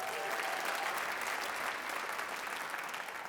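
Audience applause at a jazz ten-piece concert at a university, dense, steady clapping from a sizable crowd lasting throughout, gradually easing slightly toward the end.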